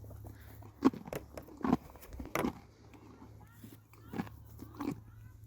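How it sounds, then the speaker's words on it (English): Horse eating, with a series of crisp crunching bites at irregular intervals, close by but fairly quiet over a low steady background hum. "the crunching of horses when they're eating"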